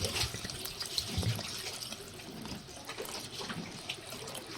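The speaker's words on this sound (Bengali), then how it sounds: "আবার একটু জল দিয়ে দেবো" Water poured into a pot of cooking live small carp (chara pona) curry with flat beans and potatoes, giving a steady close splashing and bubbling wash with a few brief louder splashes, no talking.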